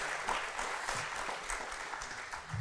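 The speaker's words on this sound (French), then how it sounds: "Et vous pouvez applaudir Laure, bien sûr." Audience applause at a French public talk and debate event, a steady wash of clapping from a crowd lasting a few seconds at even loudness, with no voices over it.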